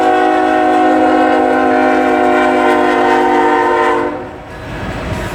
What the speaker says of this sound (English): Looks like a coal train.